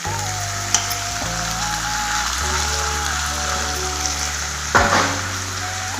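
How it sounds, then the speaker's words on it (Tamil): Capsicum and coriander sautéing in a pan for capsicum chutney, a steady close sizzle with a low hum underneath and a couple of brief clinks, no talk. "இப்போ நம்ம கொடை மிளகா, அந்த கொத்தமல்லி போட்டு வதக்கலாங்க."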